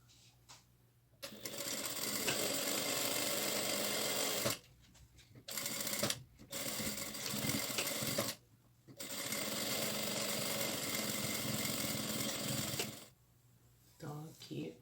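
A sewing machine stitches a seam joining satin and tulle, running in several loud, steady whirring bursts separated by brief pauses, close up with no talk.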